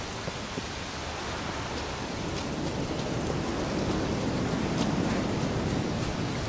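Steady rain falls in the fantasy video game The Witcher 3, a constant dense hiss of rainfall with faint scattered drops, even and moderately loud throughout with no talk.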